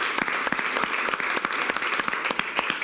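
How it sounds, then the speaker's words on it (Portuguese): A church congregation claps steadily after a worship service announcement, a dense, moderately loud round of applause with no talking over it. "Dê uma salva de palmas a ele."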